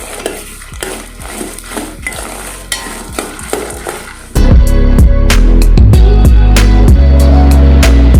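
Sundakkai podi ingredients are stirred and fried in a pan: soft scraping and ticking at first, then a sudden jump to a loud, dense sizzle with rapid rhythmic spatula strokes against the metal.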